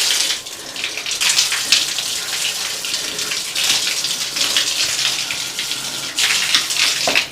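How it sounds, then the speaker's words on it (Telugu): Water from a bathroom tap runs while someone washes their feet, giving a steady splashing, gushing stream with irregular louder spatters throughout and no voices. "బాత్రూంలోకి వచ్చినాం కాబట్టి కాలు కడుక్కొని ఇంట్లోకి పోవాలి"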